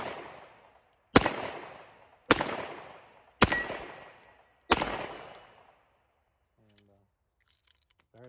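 A Smith & Wesson 686-6 Plus .357 Magnum 4-inch L-frame revolver fires .38 Special in double action: four loud, evenly spaced shots, each with a ringing decay, and then quiet.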